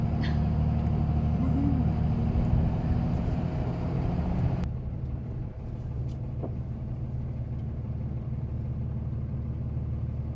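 A recreational vehicle rolls into a campground in Livingston, its steady engine and road rumble loud and continuous, easing and dropping in level partway through as it slows.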